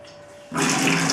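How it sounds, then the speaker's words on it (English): Water gushes from a hot-water tap fed by a newly installed instant geyser, starting abruptly after a brief quiet moment and running steady and loud for about half a second before cutting off. "I'll open the tap."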